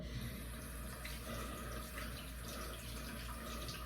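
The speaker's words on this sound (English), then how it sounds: "let me just get a little bit of warm water up here where I can" Warm water runs from a tap during a wet shave, a steady, soft hiss of flowing water into a sink, continuous and fairly quiet with no talking.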